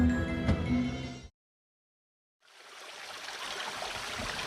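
River water flows in a steady broadband rush after a brief silence, following a short burst of dramatic music at the start.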